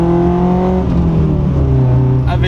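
A 1993 Toyota MR2 with an aftermarket exhaust line drones loudly and steadily from the cabin while cruising at constant revs, its tone easing slightly partway through.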